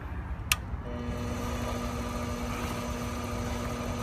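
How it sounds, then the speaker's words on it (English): A micro lathe starts with a short click and then settles into a steady, faint motor whine and hum that runs evenly to the end. "This works pretty good on a micro lathe"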